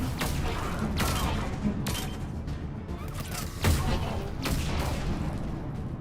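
Dense, sustained gunfire from Liara's weapon in Mass Effect, a steady rattling fusillade with a few heavier thumps mixed in, loud and continuous throughout.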